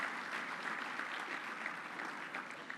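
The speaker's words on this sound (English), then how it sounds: "so give them a round of applause" An audience at a sports social event gives a round of applause, steady even clapping heard at a moderate distance, without talk.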